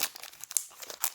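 A Pokémon booster pack wrapper is torn open, with crisp crinkling and tearing of thin foil plastic in short, uneven bursts, close up and with no voices.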